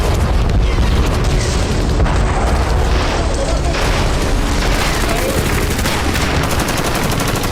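Heavy bombardment in Gaza as news footage: dense, continuous rumbling blasts and crackling bursts like gunfire, loud and sustained throughout with no clear gaps.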